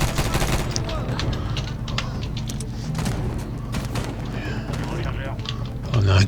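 Rapid gunfire and bursts of machine-gun fire from the Medal of Honor video game, set at maximum difficulty, crackle steadily throughout under and between someone talking, with shots at varying distances.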